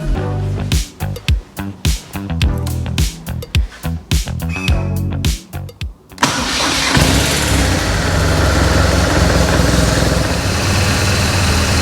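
BMW R1200GS motorcycle engine being cranked over in a series of choppy starter bursts for about six seconds, then catching and settling into a steady, close idle.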